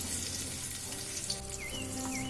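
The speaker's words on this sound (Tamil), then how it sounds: "இது கூடவே ஸ்லைஸ் பண்ணி வச்ச 2 பெரிய வெங்காயத்தை சேர்த்துக்கலாம்." Sliced onions sauté in oil and ghee with whole spices such as star anise for ghee rice, a soft close sizzle with faint steady tones humming underneath.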